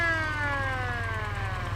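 A police siren fitted to a Kawasaki KZ1000 Police Interceptor motorcycle wails close and loud, a steady electronic tone sweeping slowly downward in pitch over a low rumbling drone, with no voices.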